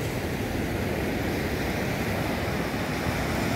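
Sea waves at the shore near La Bocana at sunset, a loud, steady, broad wash of surf with no breaks and no voices.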